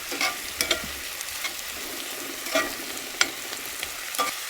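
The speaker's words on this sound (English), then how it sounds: "we'll give that all a good stir" Spoon stirring beans and onions seasoned with chili lime seasoning in a pan over a wood stove at a camp, scraping in a few soft, irregular strokes over a quiet, steady sizzle.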